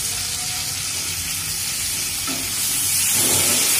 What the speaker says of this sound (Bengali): এবার এটা ভালো করে একটু ফ্রাই কর